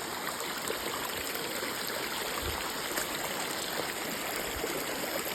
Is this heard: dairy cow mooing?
no